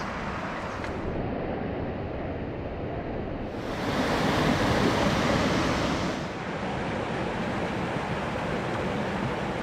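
The Chhota Rangeet river rushes by at close range, a loud, continuous broadband roar of flowing water that swells briefly in the middle before settling back to an even wash, with no voices.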